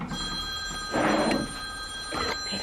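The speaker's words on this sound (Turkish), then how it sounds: "Telefonum çalıyor." A mobile phone rings nearby with a steady electronic tone and two louder bursts of the ringtone, heard alone without any talking.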